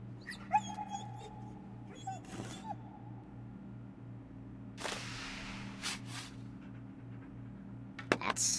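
A dog in the point-and-click hidden object game Grim Tales: Threads of Destiny gives a few brief, high whimpers and yips over a steady game background hum, with sharp effect sounds scattered between them.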